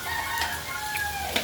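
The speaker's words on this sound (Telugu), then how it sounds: "కోడి అరుస్తూనే ఉంది పాపం" Hen calling repeatedly in a home setting, a few separate squawking clucks and crowing-like calls over quiet background, moderately distant.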